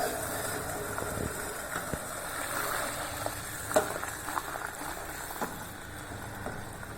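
Steady bubbling and sizzling of sugar syrup boiling and thickening in a pan, with faint clinks and a soft background hum, no voices.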